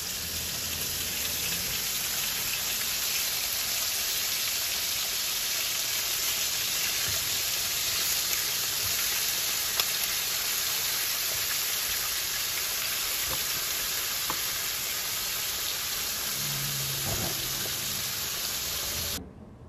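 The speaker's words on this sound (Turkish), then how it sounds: "bir tavaya yağ gezdiriyorum. Ve dönerlerimi tek sıra halinde tavaya diziyorum." Döner meat slices laid in a single row in an oiled pan over high heat fry with a dense, steady sizzling hiss that holds evenly throughout, with no talking.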